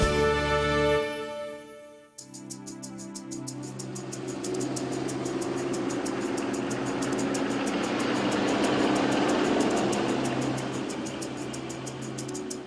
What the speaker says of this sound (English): inside these colorful locomotives there are real engines.